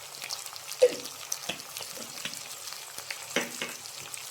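Spice powders, including coriander powder, being stirred and fried over okra, drumstick and mango pieces in a curry pan. Soft sizzling runs underneath, with scattered scraping taps of the spoon throughout.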